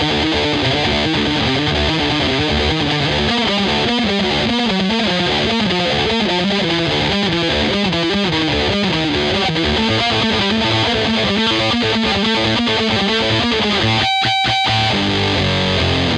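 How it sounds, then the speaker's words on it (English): Heavily distorted electric guitar with a Phase 90 phaser pedal plays a chugging, riff-driven part, loud and continuous, with a brief cut near the end before the tone returns. "Prime distortion is on there the whole time. First phase 90 is on there the whole time the way I have it."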